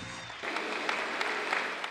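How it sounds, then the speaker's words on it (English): Studio audience clapping at a game show taping for Vanna White's 30th anniversary, a steady wash of applause that swells in after a brief quiet start and holds. "A lot of clapping."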